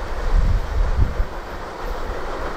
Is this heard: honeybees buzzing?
no